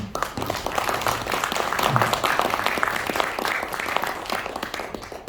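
A crowd at an independence declaration anniversary ceremony claps steadily, a thick wash of many hands at fairly even volume from start to finish, with no speech rising above it.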